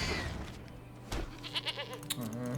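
A goat token in the MTG Arena card game gives a short, wavering bleat over soft game background sounds.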